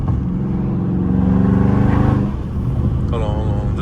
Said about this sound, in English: just let y'all listen to the car